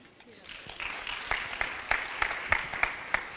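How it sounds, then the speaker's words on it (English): An audience at a biodiversity economy and investment indaba applauds the rapporteurs, the clapping swelling from scattered hands into steady applause with a few sharp, prominent claps near the end. "Another round of applause for all of them"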